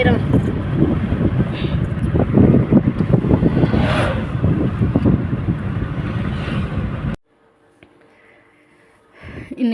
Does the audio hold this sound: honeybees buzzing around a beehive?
no